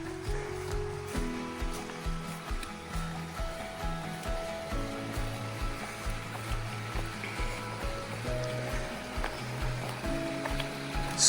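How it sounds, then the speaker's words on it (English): A creek flowing beside the Appalachian Trail, a continuous water rush with a rhythmic pulsing pattern and steady tonal hum running underneath, at moderate level. "But I first got to cross this creek."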